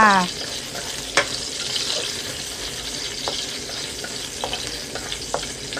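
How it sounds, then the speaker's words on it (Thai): Garlic stir-fried in hot oil for a pork and eggplant dish: a bright, close sizzle throughout, broken by several sharp spatula scrapes and clinks against the pan, with no voice. "น้ำมันร้อนกระเทียมลงไปค่ะ ผัดกระเทียมให้หอมนะคะ"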